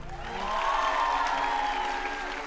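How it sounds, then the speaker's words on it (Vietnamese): A studio audience at a televised dance competition applauds in a steady, even wash of clapping that sounds somewhat distant, with a low musical hum underneath. "Chúng ta hãy động viên tinh thần bạn ấy bằng một tràng vỗ tay được không ạ?"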